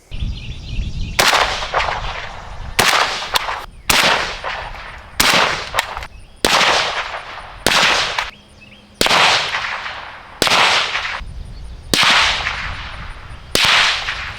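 Suppressed gunshots from a PSA rifle in 7.62x39 fitted with a JMac Customs Banka suppressor, recorded outdoors: about ten sharp, loud reports at an irregular, fairly quick pace, each with a short decaying tail and no talking.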